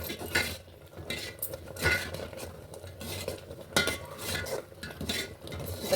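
A spoon scrapes and clatters steadily around a metal pan as jaggery, grated dry coconut and ground powder are mixed together, the rhythmic scraping loud and close with no talk.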